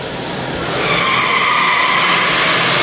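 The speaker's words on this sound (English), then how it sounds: "We're gonna watch this car take off." A car launching down an indoor demonstration track at the New York International Auto Show, Javits Center, with a rising, sustained tire squeal building loudly after a quiet start and holding steady to the end.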